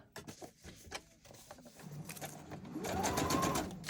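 A sewing machine stitches pages of a handmade junk journal, with a few short bursts of stitching at first, then a longer, steadier and louder run of stitching.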